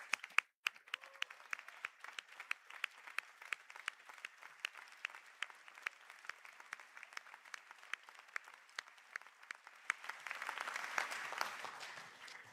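Audience applause for standing graduates at a college conferring ceremony, a long round of crisp individual claps in steady rhythm from a hall, thickening into fuller applause near the end.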